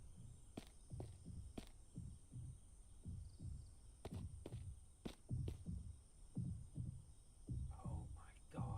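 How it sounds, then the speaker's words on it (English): A steady heartbeat from the video game Mist thumps in low, regular pulses throughout, quiet and muffled under a faint background hum. "Is that my heart beating?"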